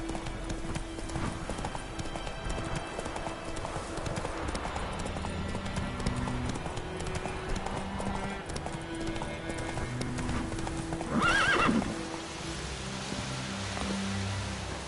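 Roach, Geralt's horse in The Witcher 3, gallops with a steady rapid clip-clop of hooves over ambient game sound, and a brief louder swell with a whinny-like cry comes near the end.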